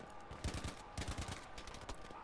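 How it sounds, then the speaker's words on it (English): Machine gun fire in Battlefield V, heard as a few short bursts of rapid shots at moderate distance, set in a noisy battle scene. "Oh, he's on an MG, that's why."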